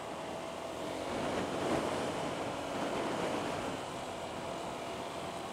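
Sea surf rolls steadily onto the shore at a beach resort in Dingalan, a continuous wash of waves with wind noise on the microphone, nobody speaking.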